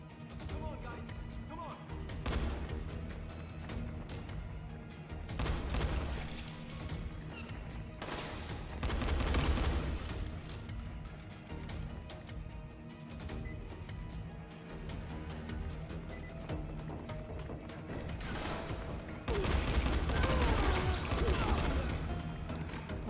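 Video game gunfire in a historic-city street level: repeated bursts and single shots over about twenty seconds, loud and dense with impacts, under game music and someone talking.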